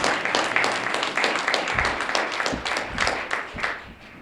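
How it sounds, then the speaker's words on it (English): Applause from a church congregation fills the space as people clap together for a husband called to the front, a dense, steady patter of many hands with some voices mixed in. "Clap hands for the husband."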